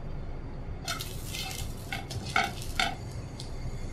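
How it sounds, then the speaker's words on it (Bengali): Chit ruti flatbread frying on its second side in a pan, a steady faint sizzle with several light scraping and utensil clinks scattered over it. "একটু ওপিটটা ভেজে নিব।"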